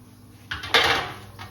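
A metal baking tray of Parmesan chips is pulled from the oven, giving a couple of quick clattering pan scrapes and clanks, close and brief, with no voices.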